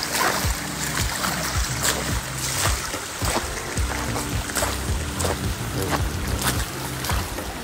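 Water rushes through a flooded house like a small river, making a continuous close churning, gurgling flow with irregular splashy surges throughout.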